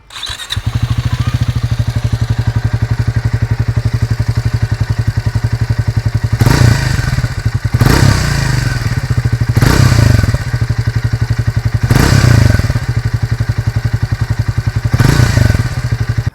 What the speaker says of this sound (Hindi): आप सुनते हैं इस बाइक का एग्जॉस्ट नोट